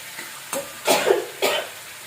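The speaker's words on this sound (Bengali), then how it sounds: "অনেকটা কাশি এসে যাচ্ছে" Several short, harsh coughs from one person while making a tangy, spicy coriander-leaf chutney with chilli, set apart by brief pauses and heard close up with no talking.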